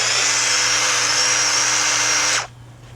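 A power drill whirs continuously for over two seconds, loud and close, backing screws out of a car door panel, then cuts off abruptly, leaving a quiet room.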